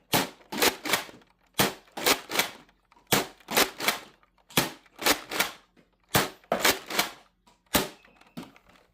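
A Nerf Mega Rotofury blaster firing darts: loud, sharp pops in uneven clusters of two or three, repeated steadily across the stretch, close up with no talking.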